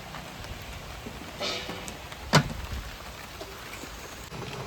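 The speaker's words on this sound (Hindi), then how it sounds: "तो भाई बारिश होने लग गई" Light rain patters steadily in Lansdowne, Uttarakhand, with a few sharper nearby drips or knocks standing out against the soft background hiss.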